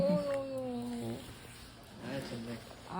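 A cat meows in a long, drawn-out call at the start, followed by a softer, shorter cry, with people talking close by.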